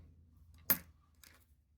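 Old coins from a nickel hunt give a single quiet metallic clink as they are handled, followed by a fainter second rattle, close by in an otherwise quiet room.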